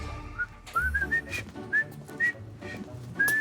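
A person whistles a short, halting tune in separate rising notes, close and fairly soft, with small rustles and breaths between phrases.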